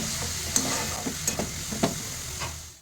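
Dill leaves curry frying in a pan, village style, with a steady sizzle and a few soft stirring scrapes, close and alone.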